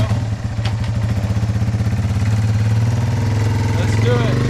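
Yamaha XT225 motorcycle engine running close by, a steady thumping idle with a regular chugging pulse and a light mechanical clatter throughout.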